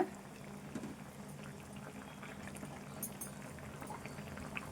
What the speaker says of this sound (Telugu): ఇంకా కొద్దిసేపు ఉడకనిద్దాము మరీ చిక్కగా కావద్దు ఈ సూపు